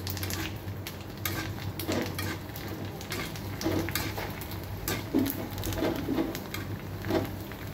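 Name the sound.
fuchka (puri) frying in hot oil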